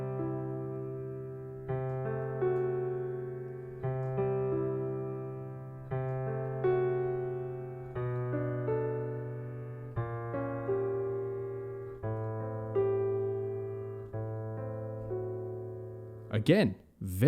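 Harmony chords of Zelda's Lullaby, played without the melody, ring out as sustained chords struck roughly every two seconds, each decaying slowly before the next, clear and close, ending with a brief noisy burst.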